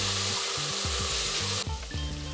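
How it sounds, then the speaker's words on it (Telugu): Peas are stirred into a sizzling tomato mixture in a pan for tomato rice. Close, loud frying hiss runs under a series of low spoon scrapes and knocks against the pan. "ఇప్పుడు ఇందులో బఠానీ వేసుకుందాము. బాగా మిక్స్ చేసేసుకోవాలి."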